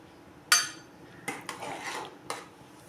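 A utensil scrapes and clinks against a pot while okra curry is stirred, with one sharp metallic clank followed by a few quieter knocks and scrapes, close and without talk.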